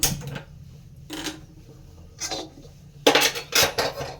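A cooking pot is set down on a stove burner with several clanking, scraping metal contacts in separate bursts, the last ones loudest and close by, over a low steady background hum.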